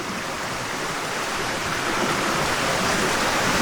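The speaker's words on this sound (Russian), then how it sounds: "Из-под низа тоже вода идет." Water flowing out from under rocks beside a small washed-out pool in southern Bohol, Philippines, a continuous close rushing and splashing that builds slightly louder over a few seconds.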